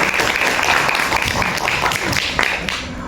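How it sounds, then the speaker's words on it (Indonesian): Audience applause for a student presenter at a university public speaking event, dense steady clapping filling the room for about three seconds with no voices over it. "Teman-teman boleh dipersilakan untuk memberikan tepuk tangan yang meriah."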